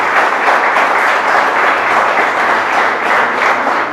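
A church congregation applauds, a continuous, close, full-bodied wash of clapping that holds steady for a few seconds without voices.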